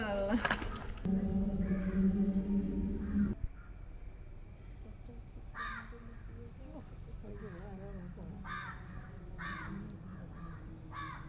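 Crows caw several times at intervals, harsh and fairly close, after a few seconds of voices talking at the start.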